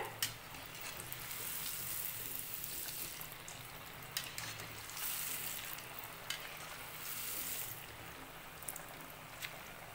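Sama (moraiya) vada deep frying in hot oil over a medium gas flame, a continuous close bubbling sizzle with occasional sharp clicks and scrapes of a utensil.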